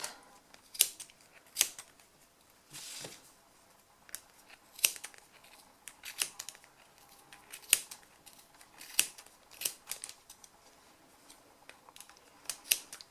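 Sharp scissors snip through pompom yarn in a series of crisp, close cuts, with irregular pauses between bursts of snipping and no talking.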